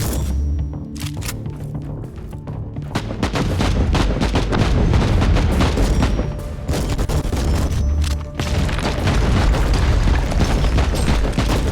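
Shotgun blasts in the action game Inquisitor Martyr, a dense run of loud, booming shots and explosions firing almost continuously, with short pauses between bursts and no talk.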